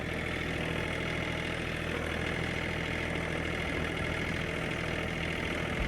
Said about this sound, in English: So I am using a little farm tractor here.